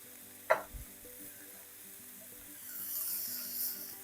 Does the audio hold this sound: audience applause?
no